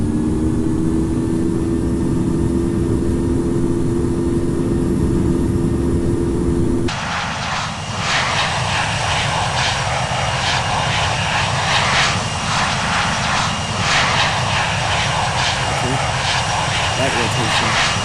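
Airliner engines in the Infinite Flight simulator hum steadily, then shift into a broad, loud roar partway through as the takeoff roll begins, holding strong to the end.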